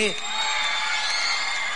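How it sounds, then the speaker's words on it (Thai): A concert audience screams and cheers loudly and continuously, a dense wall of high-pitched shrieks and yells with no pauses. "เห็นด้วยก็กรี๊ดกันดังๆ หน่อย"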